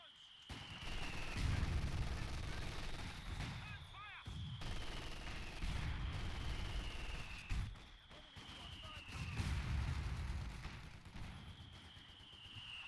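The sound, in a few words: Vickers machine gun and mortar fire in a WWII video game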